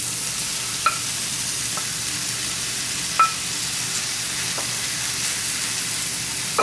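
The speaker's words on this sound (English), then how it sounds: "Now I'm going to add in the mushrooms." Mushrooms sizzle in a pan of olive oil and bacon grease with a steady, even frying hiss, broken by a few light clinks of a utensil stirring them.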